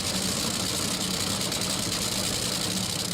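A drag racing car engine idles steadily at the NHRA Midwest Nationals, a loud, constant broadband drone with a low rumble that holds unbroken for the whole stretch and has no voices over it.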